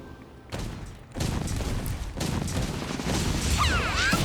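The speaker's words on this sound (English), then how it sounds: "Stun Grenade." A stun grenade goes off in the Dragon Nest video game during a PvP match, a loud dense burst of crashing, crackling blast noise that sustains for several seconds, with synthetic whooshing effects near the end.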